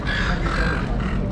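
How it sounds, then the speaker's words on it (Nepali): Birds fighting in Sydney, Australia squawk and caw in a harsh, continuous burst that lasts a moment. "खतरा चरा रहेछ"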